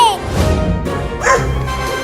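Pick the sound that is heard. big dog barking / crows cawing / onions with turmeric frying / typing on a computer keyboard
big dog barking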